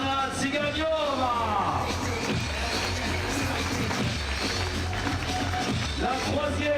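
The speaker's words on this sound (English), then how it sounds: "Applaudissements pour Anna Zaiganova." Crowd at a Chamonix climbing World Cup speed final applauds and cheers steadily for a Russian competitor, a dense continuous wash of clapping and crowd noise heard fairly close throughout.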